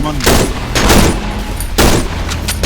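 Shotgun blasts from the horror game Cry of Fear: three loud, booming shots spaced about a second apart, each with a sharp crack and a decaying tail, while a voice talks quietly in the background.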